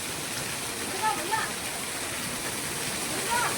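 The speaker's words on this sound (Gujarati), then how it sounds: "જોઈ શકો છો સરસ મજાનો વરસાદ પાછળ" Steady evening rain pours outside a dairy shop around eight at night, a continuous even hiss with a few faint brief voices in the background.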